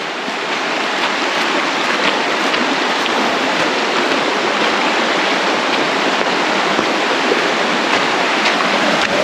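Rushing river water at Mermaid Pool in Trinidad and Tobago, a loud, steady broadband roar of flowing current close by, unbroken and without voices.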